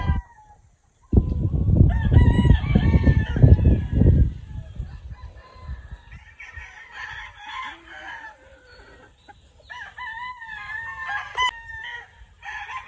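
Gamecock stags of the sweater line crowing on a farm, a loud close rooster crow at first, followed by softer overlapping crows and clucks from other fowl in the background.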